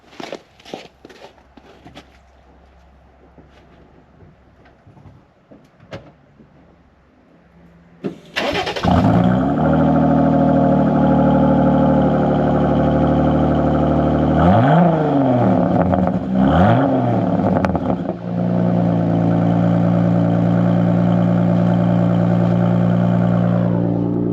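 Footsteps and small clunks, then a Jeep engine cranks and roars to life, idling loudly with a few deep revs rising and falling nearby.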